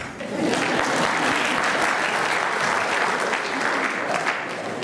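Sustained applause from a large audience at a Paryushan religious discourse, steady and dense clapping that fills the whole stretch at an even loudness.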